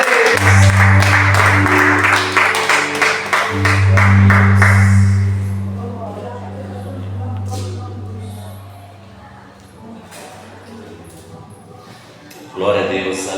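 A church congregation claps in rapid rhythm for several seconds over a steady low drone, then the clapping fades into quieter room noise.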